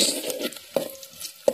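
Chillies, garlic and curry leaves sizzle in hot oil for a crab dish, a soft crackle broken by three sharp spatula clacks against the pan, close and without speech.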